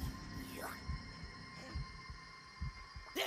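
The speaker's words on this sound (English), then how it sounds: "You can hear his heart beating." A character's heartbeat in the video game Days Gone, steady low thumps pulsing roughly every second over a faint hum, with occasional brief whooshing game effects.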